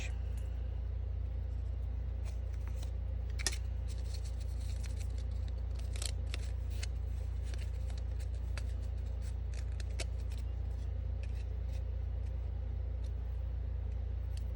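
Scissors cutting paper for a large paper flower template give repeated sharp snips and crisp rustles, close and fairly loud, over a constant low rumble of background traffic or a motor.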